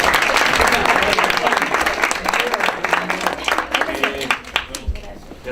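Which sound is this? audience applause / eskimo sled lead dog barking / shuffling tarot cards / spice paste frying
audience applause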